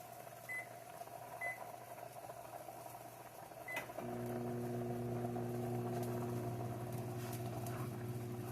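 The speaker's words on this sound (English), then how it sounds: "We're going to steam them for 20 seconds in the microwave." A microwave oven steams hot dogs. A few soft button beeps come first, then the unit starts with a sudden steady hum that drones on evenly and faintly.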